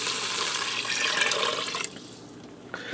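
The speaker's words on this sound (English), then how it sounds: "I'm going to dump in 4 cups of water." Four cups of water are poured into a pot on a pressure cooker set to saute, a steady splashing rush that runs close and fairly loud for almost two seconds, then stops, leaving quieter trickles and a small splash.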